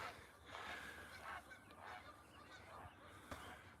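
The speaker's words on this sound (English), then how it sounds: "You ask about geese. There's a big old flock right there." A big flock of Canada geese honks and cackles continuously at middle distance outdoors, with layered overlapping calls and no talk.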